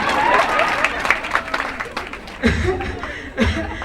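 At a college career day event, an audience claps and chuckles in a burst of applause that swells and fades, with a speaker's voice talking over it.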